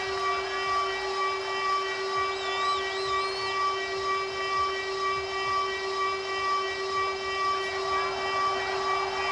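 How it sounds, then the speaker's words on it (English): Siren at a Pittsburgh Roughnecks football game, a loud steady wailing drone with sustained tones that fills the stadium continuously without pause. "As Pittsburgh lets that siren rumble"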